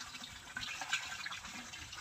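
Water gushes steadily into a container during a bath, a close, continuous splashing rush with no pauses.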